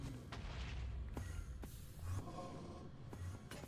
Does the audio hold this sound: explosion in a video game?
yes